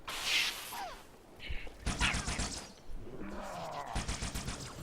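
Halo 2 video game gunfire during a speedrun, several sharp bursts of shots and impacts with whooshing effects, loud and close, arriving in clustered rapid volleys.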